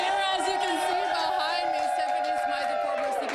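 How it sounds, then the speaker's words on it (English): An election night victory crowd in Toronto St. Paul's cheers and chatters in a steady roar, while a nearby voice speaks over the noise. "A big cheer right here."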